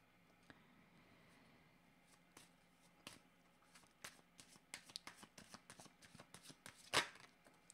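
Tarot cards are shuffled for a reading, producing quiet, close, irregular riffling clicks and slaps that grow busier toward the end, capped by a sharper flutter, with no talking.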